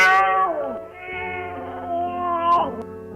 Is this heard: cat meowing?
yes